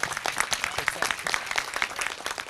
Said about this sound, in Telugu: క్లాప్స్ కొట్టండి కదా ఒకసారి కిషోర్ అన్నకి